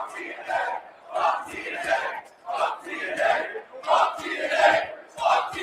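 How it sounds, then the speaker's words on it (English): A large wrestling crowd chants a rhythmic two-beat taunt over and over, loud and echoing through an arena, with each shout rising and falling in a steady cadence. "So those were the fuck TNA chants"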